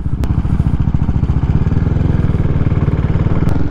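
A CCM Flat Tracker motorcycle on an organised demo ride out of BikeStop in Stevenage, its engine giving a steady, close, throbbing thrum with rapid regular pulses throughout, plus a couple of brief clicks.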